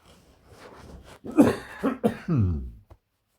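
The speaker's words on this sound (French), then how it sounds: "je me fais rire, je me fais tousser à chaque fois." A person coughs several times in quick, harsh bursts, close and fairly loud, after a moment of quiet breathing.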